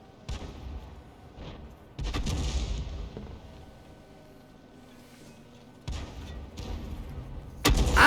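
World of Tanks cannon shots ring out, several heavy booming blasts spaced a few seconds apart, each decaying into a rumble, with quieter battle ambience between them.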